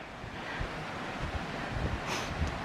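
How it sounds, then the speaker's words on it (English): A creek's series of rapids heard from nearby at a Crown land campsite, a steady, fairly faint rushing wash of water with low rumbling surges and no voices. "series of rapids on the creek here"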